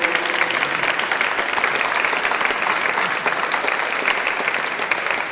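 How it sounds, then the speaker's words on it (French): An audience applauds after a neuroscience lecture, steady dense clapping filling the whole stretch without pause, fairly loud and even, no voices over it. "on vous applaudit encore une fois"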